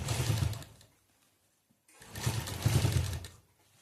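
A sewing machine runs in two short bursts of stitching, each a close, rumbling whir, with a near-silent pause between them.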